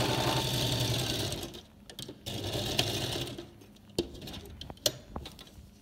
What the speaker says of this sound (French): J'ai positionné mon presseur au bord du tissu pour faire la couture.